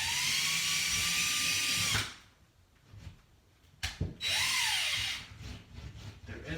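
A power drill with a small bit bores into a wall where a stud sits, installing a pegboard; a steady, close whine runs for two seconds, stops, then starts again with a rising pitch sweep and runs on.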